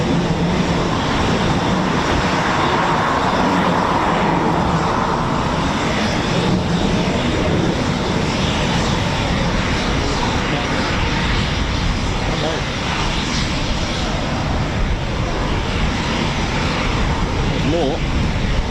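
Eurofighter Typhoon FGR4 jets pass overhead at RAF Coningsby, a loud, sustained broadband engine roar that fills the whole stretch while people talk.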